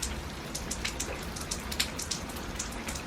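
Water drips from a gutter that was not set right after repair, frequent irregular drops spattering close by over a continuous hiss of falling rain, with no one talking.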